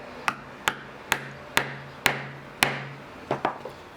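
A tool taps an awl through a leather apron strap, about eight sharp, evenly spaced hits, each with a short ringing decay. The last two come closer together, and no one speaks.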